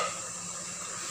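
Steady rushing hiss of water boiling hard in a steamer, a constant bubbling roar with no pauses and no voices.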